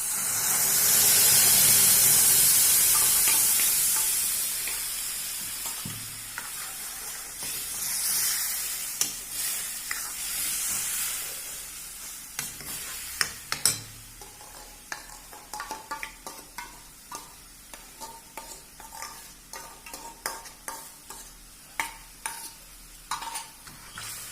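Tomato, ginger and chili paste with browned whole spices sizzling in a hot pan for a Bundelkhandi potato curry: a loud hiss and steam at first, then settling into a crackling fry with repeated sharp scrapes and clinks of stirring.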